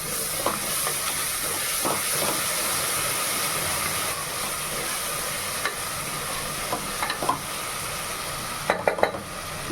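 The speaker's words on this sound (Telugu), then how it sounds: "ఇప్పుడు బిర్యానీకి వేసుకోవాలి కాబట్టి ఇంకొక స్పూన్ జింజర్ గార్లిక్ పేస్ట్ వేసుకొని మళ్ళీ ఒకసారి ఫ్రై" Ginger garlic paste sizzles steadily in hot oil for a mutton donne biryani, a continuous close frying hiss broken by occasional light clicks and scrapes of stirring.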